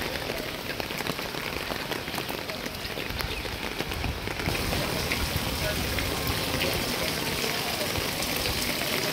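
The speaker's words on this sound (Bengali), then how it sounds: "এখন দেখুন রাস্তাঘাট ফাঁকা, আর সেই লেভেলের বৃষ্টি হচ্ছে।" Heavy rain pours onto an empty street in Manbazar, Purulia, with gusting wind, a steady loud hiss of drops hitting the ground throughout, close and dense with no pause.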